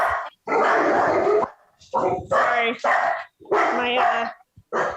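Dogs bark loudly and close by in several separate bursts, some with a whining, yelping edge, picked up over a phone line at a police commission meeting; a person briefly says something in the middle.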